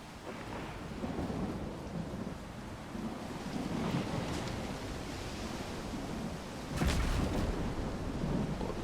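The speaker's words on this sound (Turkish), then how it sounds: "Önüme şimşek çakması da yani bir garip" In the video game S.T.A.L.K.E.R. 2, a storm rumbles with steady rain and wind, then a sharp thunderclap from a lightning strike rolls out loud and close, with no talking.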